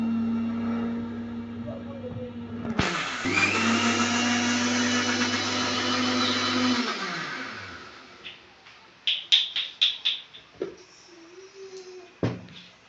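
A mixer grinder blending curd lassi at home roars loud and steady with a high whine for about four seconds, then winds down into clinks and rattles of the jar, with a faint low hum and occasional voices nearby.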